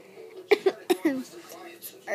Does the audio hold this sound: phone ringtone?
no